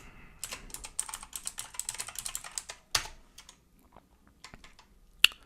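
Quick bursts of keystrokes on a computer keyboard, close and crisp, with a pause near three seconds and a few scattered taps, ending in one sharp clack, with no voices.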